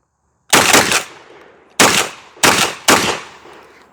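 Four loud shotgun blasts from JTS and Hatsan shotguns firing clay loads: one shot, a pause of over a second, then three quick shots in succession, each ringing out with a short decaying tail, no talking.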